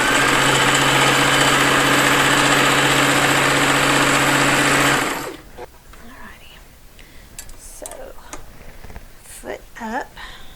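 A sewing machine runs steadily and loudly for about five seconds while stitching dimensional fabric pieces, then stops, leaving quiet handling noises and faint rustles.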